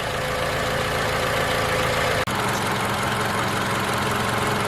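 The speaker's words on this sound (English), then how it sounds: "let it run till it gets to idling speed" A car engine idling after a jump start, a steady low running hum with a brief dropout partway through, heard alone and close.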